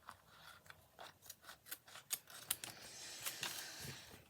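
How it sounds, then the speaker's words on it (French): A pair of black scissors is handled up close. A quiet series of sharp clicks and snips comes at an uneven rhythm, with a soft rustle toward the end and no talk. "Mon ciseau noir, il est parti en vacances, le grand."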